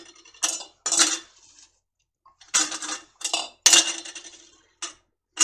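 Chopped onion is spooned into glass canning jars, giving a run of separate clinks, taps and scrapes of spoon against glass with short quiet gaps between them, close and moderately loud.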